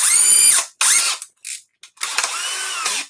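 A DeWalt power drill's chuck ratchets in short bursts, rapid clicking whirs separated by brief silences, loud and close with no talk.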